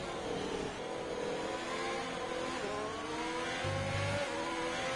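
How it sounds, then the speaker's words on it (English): On a track, race cars accelerate in a steady, moderately faint engine drone with rising revs and layered passing tones, with no talk over them. "take a listen to these cars"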